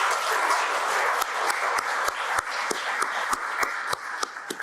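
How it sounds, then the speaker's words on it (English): Audience applause at a community foundation reception, a dense burst of many hands clapping, close and steady with occasional sharper claps, thinning slightly toward the end. "Let's give a round of applause for the Esplanade staff."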